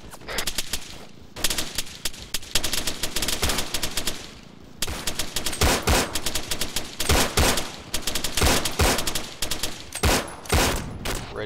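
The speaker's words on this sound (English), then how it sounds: "We were shooting at the same time as you were, but we're just too far away." Heavy gunfire fills a military shooter video game, with dense bursts of automatic fire and overlapping single shots that are loud and nearly continuous, with only brief pauses between volleys.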